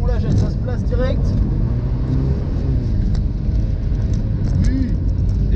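A Mazda MX-5 NC drifts on a race track, its engine a steady close rumble held under throttle, with someone talking excitedly over it throughout.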